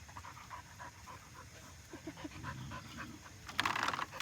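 A farm dog panting steadily close by, soft rhythmic breaths at low level, with a louder rustling burst near the end.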